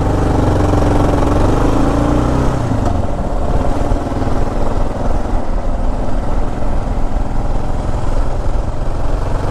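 Kawasaki KLR motorcycle riding on pavement, a steady loud engine drone with a brief pitch change early on, then continuous rumble and wind noise with no talking.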